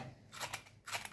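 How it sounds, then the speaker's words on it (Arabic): Crispy fried tilapia fish crunches in two short, crisp bursts, close and fairly faint, with no talking. "سامعين صوت القرمشه، مقرمش من بره"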